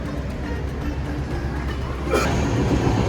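A steady low rumble of a train idling at Mumbai's CSMT station, with a soft hiss swelling near the end.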